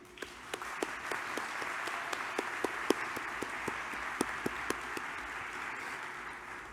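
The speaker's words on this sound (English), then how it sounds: "please join me in another round of applause for Danielle." Applause at the 88th AMCTO annual general meeting, a steady broadband wash of clapping from a seated audience that holds evenly for the whole stretch, with a few sharper individual claps standing out above the mass.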